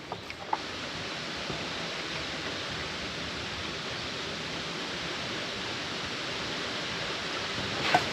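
Coolant pours into the overflow jug of a Ford tractor's radiator, a steady, even splashing rush of liquid that runs without pause from start to finish, with no talking.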